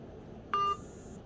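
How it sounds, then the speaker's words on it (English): A mobile phone gives a single short electronic beep as it powers off, a clean steady tone lasting about a quarter second against quiet background hiss. "It made a beep."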